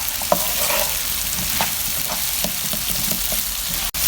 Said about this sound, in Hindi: एक से 2 मिनट तक हम इनको मज़ीद भूनेंगे।